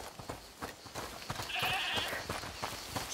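A goat in the video game A Plague Tale: Requiem bleats in a short, thin call midway through, set against soft game ambience and scattered tapping sounds.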